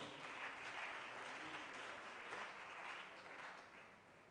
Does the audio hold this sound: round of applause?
yes